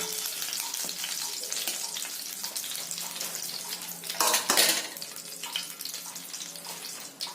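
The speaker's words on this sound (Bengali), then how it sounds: "এগুলো সব প্রথমে একবার অল্প করে ভেজে নেবো" Pieces of Aamudi fish get a first light fry in hot oil at home, a continuous close hiss of frying that flares into a louder, crackling burst about midway.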